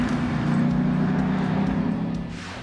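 A 2012 Ford Mustang BOSS 302 with its 5.0 V8 roars loudly and close as it drives past, a strong deep engine note fading slightly at the end, with no voices.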